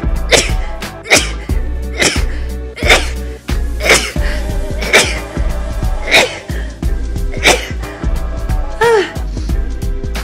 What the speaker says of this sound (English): Oh, I sneeze on camera.